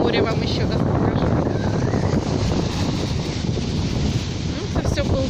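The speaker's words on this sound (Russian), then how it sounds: "шумящее море вам еще раз покажу." Sea waves on a Crimean beach at Steregushchee, a steady loud wash of surf blended with strong wind rumble on the microphone, continuous throughout with faint voices underneath.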